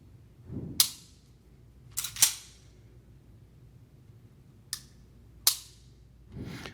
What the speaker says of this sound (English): The pull is softer when you do the trigger pull on the Kimber.